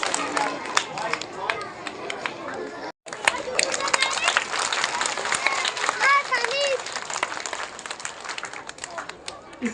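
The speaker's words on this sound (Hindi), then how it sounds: "जोरदार तालियों के साथ" Loud, dense clapping from an audience at a primary and high school medal award ceremony in Achalpur, with a brief break, while a voice talks over it throughout.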